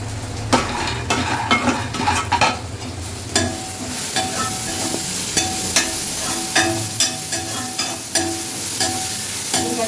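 Peanuts frying with salt in a pan give a constant loud sizzle, punctuated by repeated sharp scrapes and clinks of a spatula against the metal, no speech.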